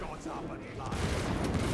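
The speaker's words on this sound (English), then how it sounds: "Oh, there's the explosions." Explosions and rapid gunfire in the Space Marine 2 video game crackle in a dense, fairly quiet burst that swells toward the end.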